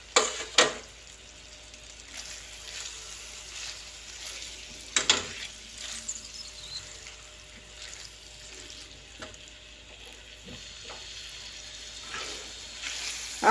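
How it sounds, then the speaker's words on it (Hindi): Ground spices with red chilli powder and turmeric frying in hot oil, a steady soft sizzle with occasional stirring clatters and a few sharp clinks of a spoon against the pan. "अब अच्छी तरह मसाले भून लेने हैं।"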